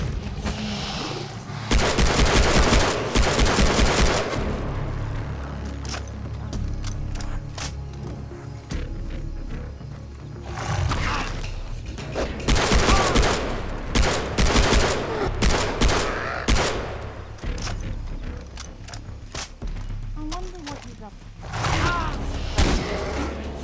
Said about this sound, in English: This pistol is even better than my main weapon.